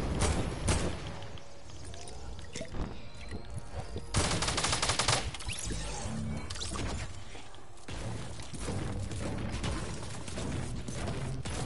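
Gunfire in a video game comes as dense, continuous bursts of rapid shots and mechanical clatter, steady and fairly loud throughout.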